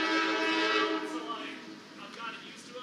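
A train horn blares in a long sustained chord, with the rumble of the passing train beneath it fading gradually toward the end.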